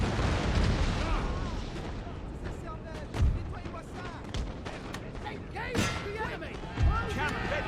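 Musket volleys and booming artillery in the Napoleon: Total War battle game, scattered thumps and cracks landing every second or so over a rumbling battlefield backdrop while someone talks throughout.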